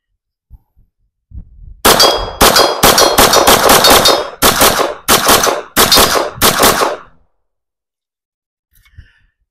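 A CZ Shadow 2 Compact pistol fires a string of about nine loud, sharp shots in quick, slightly uneven succession, each with a short ringing tail, preceded by faint handling clicks.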